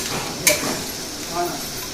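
Onions softened in a pan are stirred and mixed, giving a soft scraping clatter with one sharper knock over a steady low sizzle of frying, close and moderately loud.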